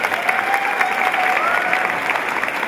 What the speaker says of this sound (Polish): proszę o gorące brawa